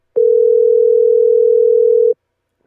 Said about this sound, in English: Let's see if we can call him back.